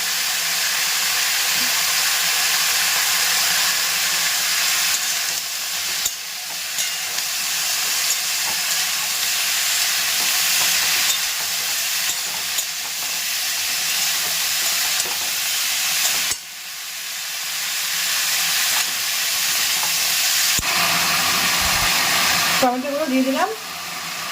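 Potatoes sizzle steadily in a hot pan for a home-cooked spicy potato dish, a constant close hiss broken by occasional scraping and stirring knocks, with a brief clatter near the end.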